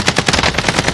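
Rapid automatic gunfire in the video game Apex Legends: a loud, close, unbroken burst of evenly spaced shots, roughly ten per second, with no talking.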